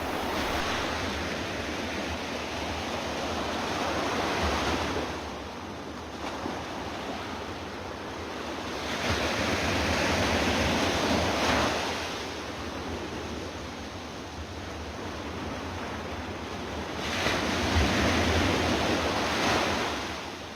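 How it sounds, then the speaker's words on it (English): Waves and surf rolling in on a pebbly, sandy beach as the tide comes in, a continuous loud wash of breaking water that swells and recedes in slow surges about every six seconds, with some wind noise and no voices. "There we walked down to the pebbly, sandy beach and explored a bit while we watched the tide begin to come in."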